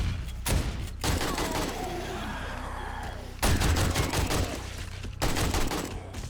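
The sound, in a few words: turrets shooting zombies in 7 Days to Die video game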